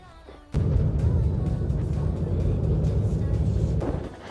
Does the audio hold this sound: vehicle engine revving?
yes